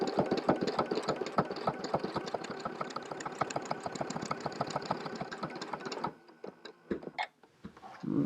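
A sewing machine stitching an appliqué design runs in a steady, rapid mechanical chatter up close for about six seconds, then stops, leaving a few light clicks and handling noises.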